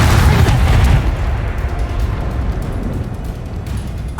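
A Confringo spell explodes in Hogwarts Legacy, hitting as a loud, close, broadband boom at the start and then settling into a rumbling decay that lasts several seconds.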